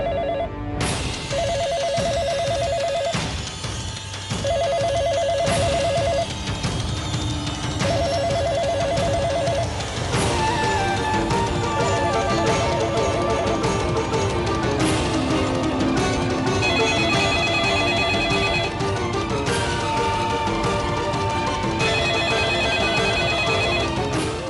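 A telephone rings with an incoming call, repeating electronic ring bursts in a regular pattern over a busy, loud musical background, continuing throughout without any talking.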